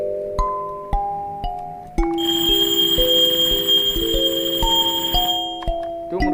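Alarm clock ringing on its second trial, a steady bright electronic bell tone sustained for several seconds over a regular ticking, starting and stopping abruptly, loud and close with no talking.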